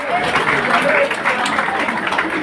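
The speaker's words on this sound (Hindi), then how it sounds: "तालियां हमारी मैया के लिए" Applause for two women honoured at a Shrimad Bhagwat Katha gathering, a steady dense crowd clapping that holds at an even level throughout, with crowd noise and voices mixed in.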